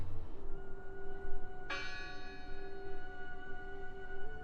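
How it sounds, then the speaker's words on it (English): A church bell in the video game Draugen strikes once, a bright metallic clang with a long ringing tone that lingers over a low rumbling ambient background. "I heard the bell."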